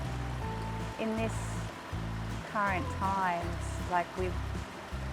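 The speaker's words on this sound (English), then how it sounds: "we're sitting by a creek right now" A creek flows by the sitting spot, a steady wash of running water beneath a person talking throughout.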